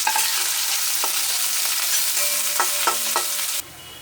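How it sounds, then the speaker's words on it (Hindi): Onions frying in a pan for Bihari singhara filling, a bright steady sizzle with occasional stirring scrapes and clinks, close and loud before cutting off abruptly. "प्याज डालूंगी। इसे फ्राई करेंगे।"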